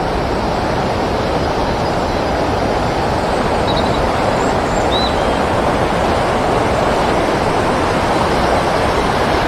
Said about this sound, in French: Regardez, il y a quelques cascades aussi.